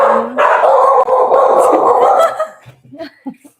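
Dogs howl and bark loudly up close in a sustained chorus for a few seconds, then trail off into a few scattered yips and short barks.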